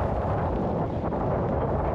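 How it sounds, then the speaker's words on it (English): A very strong gust of wind roars during a blizzard on Donner Pass, a dense, steady, loud rush buffeting the microphone for the whole stretch with no break. "Here's another very strong gust coming with this."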